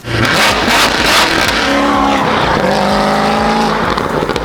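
A Corvette C7 fitted with a new Corsa X pipe exhaust roars close and loud, revving hard with rising and falling pitch sweeps and a raspy, aggressive tone throughout.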